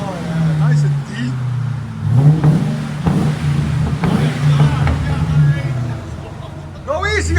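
A 2005 Ford Crown Victoria 4.6L with Flowmaster Flow FX exhaust rumbles at a deep idle and revs briefly a few times, with people talking over the engine close by.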